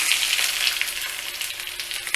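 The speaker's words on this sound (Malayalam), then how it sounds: "ഇനി ഇതിലേക്ക് നമ്മൾ അരിഞ്ഞു വെച്ചിരിക്കുന്ന ചുവന്നുള্ളി ഇട്ട് കൊടുക്കാം." Chopped shallots (small red onions) fry in coconut oil for a Kerala pulingari, with a steady close sizzle and occasional stirring scrapes and spits, and no voices.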